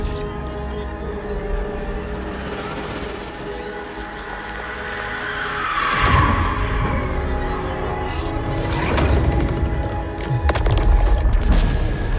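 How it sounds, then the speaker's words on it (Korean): A huge explosion set off purely by chemical reaction, with no electricity, erupts as a deep booming blast that swells out of a tonal, droning background and rolls on through several heavy low rumbles. "전기를 일절 사용하지 않고 오로지 화학 반응만으로 일으킨 거대한 폭발"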